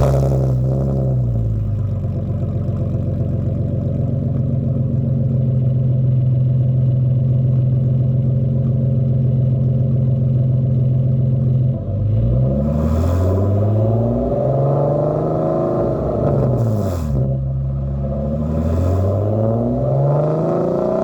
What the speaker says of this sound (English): I'm going to start off with a semi-cold start.